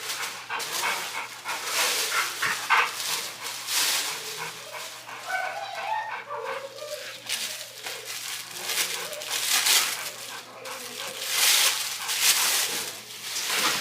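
Dogs bark and whine excitedly close by, with panting and crinkling noises throughout and a steady hum underneath.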